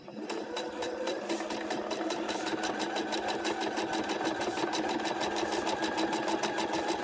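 A sewing machine basting foam onto microfiber fabric runs steadily throughout, a close, rapid, even mechanical stitching chatter with a low motor hum and no pauses.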